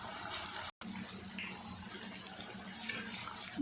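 Spinach and onion pakoras fry in hot oil with a steady, loud, close sizzling hiss that drops out briefly once.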